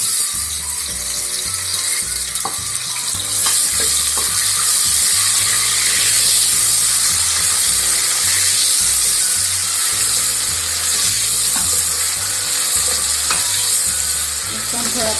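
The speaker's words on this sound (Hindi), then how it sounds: "अब ये हम इसमें ऑयल डालेंगे। और हम इसमें प्याज डालेंगे।" Chopped onions fry in hot oil in a pan for a dhaba-style urad daal, giving a loud, continuous close-up sizzle over a low, rhythmic background pulse.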